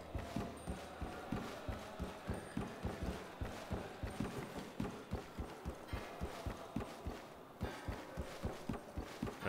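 A horse character's hooves in the Black Myth Wukong video game beat out a steady, rapid galloping rhythm, loud and close, running for several seconds with little else heard.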